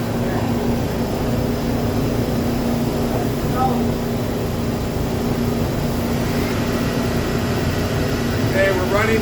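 Mori Seiki NH-6300DCG II horizontal CNC machining center, new 2011, its spindle running at 3,000 RPM: a steady, loud mechanical hum with a constant tonal whine, continuous throughout.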